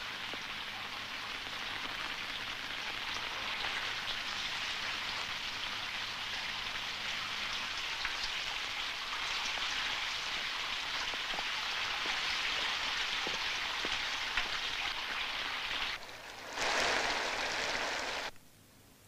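Steady rain pours down in an outdoor scene from a 1986 Soviet drama film, a dense, unbroken hiss throughout with a brief heavier surge near the end before cutting off.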